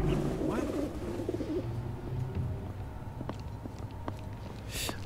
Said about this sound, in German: Nö, wir sind Tauben. Wir machen nur Guru, Guru, Guru.